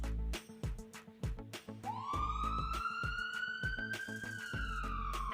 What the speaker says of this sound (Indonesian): Ya, ambulan